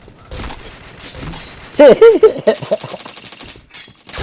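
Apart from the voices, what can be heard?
gunfire in a video game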